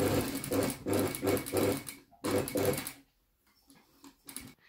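Sewing machine stitching a shirt cuff, several loud bursts of rapid stitching in regular runs, then stopping into near silence with faint handling sounds.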